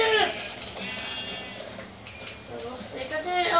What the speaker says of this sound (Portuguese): cadê a outra ovelha? Oh, tinha outra ovelha aqui.